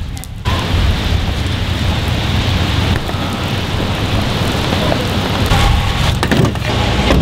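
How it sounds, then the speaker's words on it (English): Steady rain falls in a continuous, even hiss that holds at one loudness throughout, with no voices over it. "I think it's raining"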